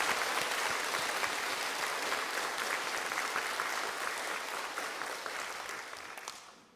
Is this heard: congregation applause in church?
yes